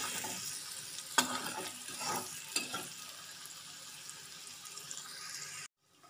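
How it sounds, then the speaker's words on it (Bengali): Water is poured into a pan of tel koi, Bengali fish curry cooking with salt and turmeric, setting off a steady close sizzle and hiss with a few sharper splashes, no voices. "এবার দিয়ে দিচ্ছি সামান্য একটু জল।"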